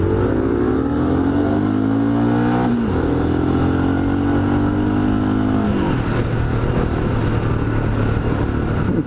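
Motorcycle engine, a SYM NH 300 or Royal Enfield Scram 411, revving hard up through the gears, its rising whine cut by two gear shifts, loud and close throughout.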